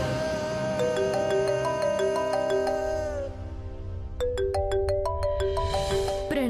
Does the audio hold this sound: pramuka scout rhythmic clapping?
no